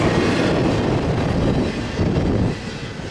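Eastbound double-stack freight train rolling past at Cajon Summit, a loud, dense continuous roar of wheels and rail noise close by, steady throughout with a slight dip near the end.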